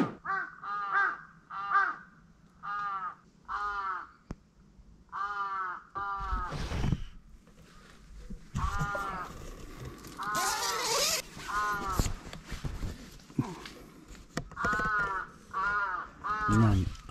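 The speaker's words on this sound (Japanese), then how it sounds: "そしてそのカラスの鳴き声がもう歌ってるような声で" Crows caw loudly and repeatedly around a campsite in Aomori at about four in the morning, clear rhythmic runs of harsh calls close by, broken by short pauses and some rustling.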